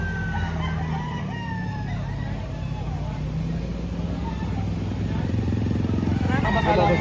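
Roosters crowing among the bustle of a chicken market in Lipa, Batangas, with several drawn-out crows over steady crowd noise, a rumbling engine and people talking nearby.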